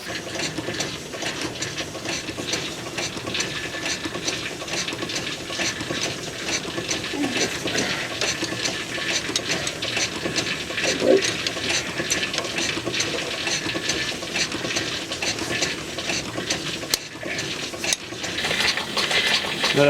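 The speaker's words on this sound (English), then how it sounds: "Say that noise is Richard turning the oil pump" Oil pump being turned by hand on a Sentinel DG8 steam waggon, cold and stiff, giving a continuous faint mechanical ratcheting and clicking that runs throughout with no talk.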